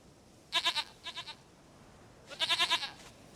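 A goat in The Witcher 3 game bleats in short, quavering bursts, three separate calls rising and falling, fairly clear against a quiet, hissy background with no talking.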